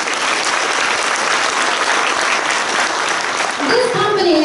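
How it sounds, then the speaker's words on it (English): Loud, sustained applause from a large audience at a corporate business showcase in Singapore, dense and steady throughout, with a voice and a tonal sweep entering near the end. "Please give Jeunesse a big round of applause."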